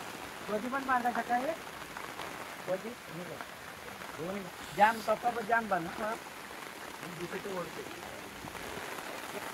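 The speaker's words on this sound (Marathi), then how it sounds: "पाऊस ह्या साईडनं सडक मारली ना, भिजायला होतं" Rain falls steadily around a village in rural Konkan, where a tarpaulin shelter is being tied up against the wind-driven rain. A soft, continuous patter runs beneath people talking.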